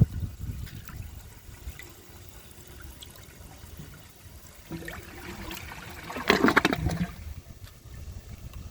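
An AquaSource toilet from the 2000s flushes weakly with its handle held down, a low gurgling trickle of water that swells into a louder rushing surge near the end, close and without speech.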